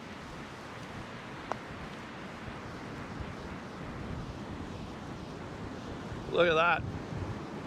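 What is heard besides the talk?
strong wind on the Vancouver Island coast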